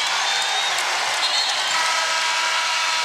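A crowd at an NCAA women's second-round basketball game between Marquette and Texas A&M cheers and applauds in a steady, dense roar that holds at the same level throughout.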